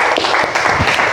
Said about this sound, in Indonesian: Tepuk tangan untuk Munir.